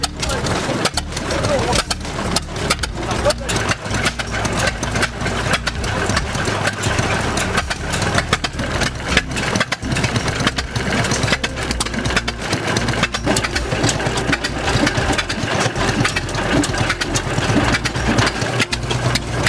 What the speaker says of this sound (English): the 8V53T Detroit diesel engine roared with power